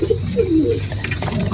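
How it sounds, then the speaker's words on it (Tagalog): Racing pigeon cooing up close in a loft during a derby, with a few soft rolling coos over steady low background hum and no talk. "live yung ating ibon na si Big Boy."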